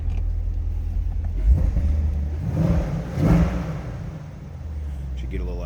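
A 2020 Chevrolet Corvette Coupe 2LT with a Targa top rumbles at idle, then gives two short revs of its engine, with a voice talking over it.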